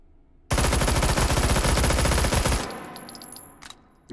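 A Vityaz submachine gun fires a rapid, continuous full-auto burst for about two seconds in Hot Dogs, Horseshoes & Hand Grenades, loud and close, then the shots stop and a faint mechanical tail and a few clicks follow.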